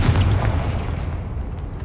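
A Confringo blasting spell explodes in the video game Hogwarts Legacy, a single deep, booming blast with heavy low-end rumble that decays slowly over the next second or two.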